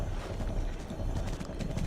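Hoofbeats of the Lord of the Mountain, a glowing, fast steed in the video game The Legend of Zelda: Breath of the Wild, whose steps sound more like stone or metal than hooves, clopping in a steady quick rhythm at moderate volume with no talk.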